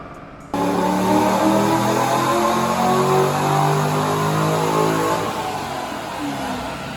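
Turbocharged Acura RSX engine on a dyno, cutting in abruptly to a loud sustained rising roar that holds for several seconds and then eases off slightly, heard up close indoors.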